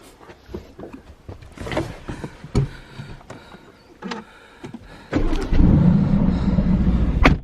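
A person getting into a car: rustling movement and a few sharp thumps, including a door shutting, then a steady louder rumble of the car starting and running close by.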